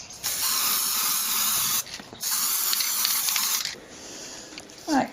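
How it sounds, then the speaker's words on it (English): Glue hisses out of a spray can in two long bursts, loud and close, separated by a brief pause, followed by a short rattle at the end. "spray it with the glue"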